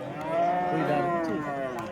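Cattle at a livestock market give one long drawn-out moo that rises and falls, loud and fairly close over quiet market background.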